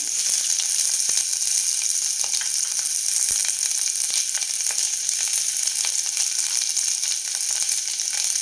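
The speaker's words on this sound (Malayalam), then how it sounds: "നമുക്ക് വഴറ്റി കൊടുക്കാം." Sliced onions sauté in a pan with ginger, garlic and curry leaves over low heat, giving a continuous close sizzle with light crackles throughout and no talk.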